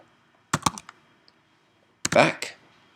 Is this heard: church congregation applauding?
no